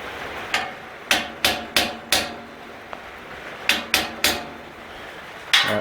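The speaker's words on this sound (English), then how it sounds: "we'll get Mr. Hammer and we'll tap him into place" A hammer taps sharply on wood in two short runs of quick knocks, close and crisp, with a brief pause between and one final tap.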